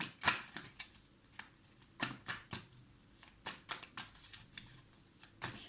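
Tarot cards shuffled for a reading, a run of quiet, crisp riffles and taps in an uneven rhythm, close and soft, with no talk.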